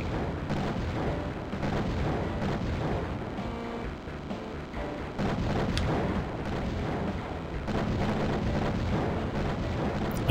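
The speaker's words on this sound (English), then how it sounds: "we have an auto-tracking minigun" Auto-tracking minigun in a video game fires continuously in a dense, loud barrage of overlapping bursts and booms, sustained for about ten seconds with no talking.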